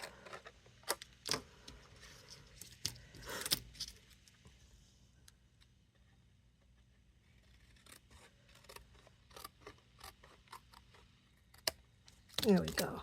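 Scissors snip through card stock while a Christmas card panel is trimmed to about 4 1/8 inches square by hand. The close, crisp cuts come in scattered bursts, with quieter pauses between them.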